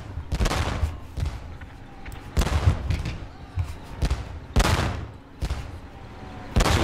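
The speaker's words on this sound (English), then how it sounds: "But I might fire the mortars over here." Mortar rounds fired and landing in the Korean War strategy game Theatre of War 3: Korea, a series of loud booming thuds about a second apart, each with a rumbling tail, over low battle noise.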